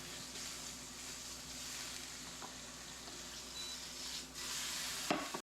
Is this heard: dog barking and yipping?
no